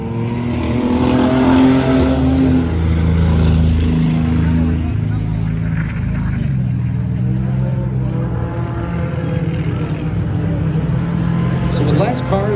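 Race cars running an enduro on a racetrack, a continuous loud engine drone with shifting pitch as cars pass, while a commentator talks over it.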